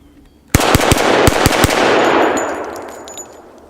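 A Hi-Point pistol firing about six rounds in quick succession, loud sharp cracks close by, each with a ringing echo that trails off into a fading reverberation.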